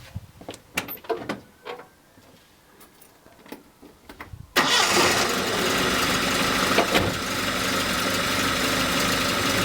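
A 1971 Datsun 510 barn-find engine catches after a few scattered clicks and knocks, then settles into a loud, steady running drone that continues to the end.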